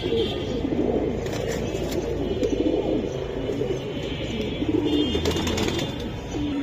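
Large silver aluminium pigeons bred for release flying coo in a dense, ongoing throaty murmur nearby, with scattered rustles and faint background voices mixed in.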